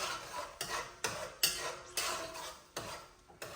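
A spoon scrapes and knocks against a pot as canned pigeon peas are stirred into a rice mixture for yellow Spanish rice, giving about seven or eight sharp, rhythmic strokes up close.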